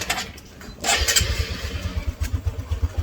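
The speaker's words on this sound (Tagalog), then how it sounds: "mapandar na ating motor" A motorcycle engine cranks and catches, settling into a close, rapid, throbbing idle after a few clattering sounds at the start, with no voices.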